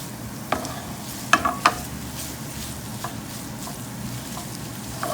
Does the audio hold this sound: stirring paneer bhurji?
yes